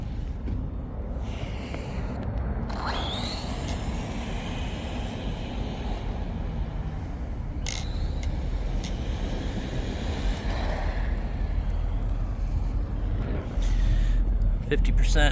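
A 1/14-scale Typhon GROM BLX brushless RC car on a speed run gives a continuous whirring roar that grows steadily louder, with a few sharp clicks and bumps on top, close by.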